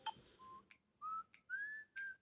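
A whistle ringtone from a Huawei phone plays alone and faintly: a sharp opening chirp followed by four short rising and steady whistled notes in quick succession.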